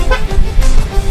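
A car horn gives short honks during a driving lesson on a busy road. The blasts are loud and close, mixed with engine and traffic noise.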